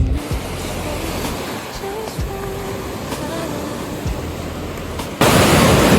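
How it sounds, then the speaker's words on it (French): Huge ocean waves wash onto a beach in Crete in the off season, a steady loud roar of surf close by that swells suddenly louder near the end, with wind noise mixed in. "Les vagues ici sont énormes."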